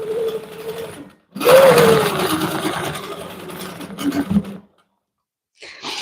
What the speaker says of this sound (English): I'm gonna just stitch the ditch around the outside of this quilt